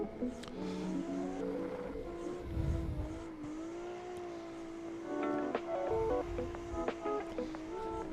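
A car engine revs and eases through a driving transition, its pitch rising and dipping over steady road rumble, with a brief tire squeal near the end.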